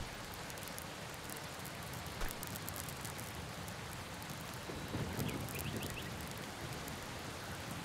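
Steady in-game rain from the farming game Farmer's Life, a dense even hiss of drops falling on the ground throughout, fairly quiet with no speech over it.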